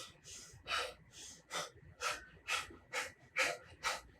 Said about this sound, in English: here you can see my breathing's increasing, that intensity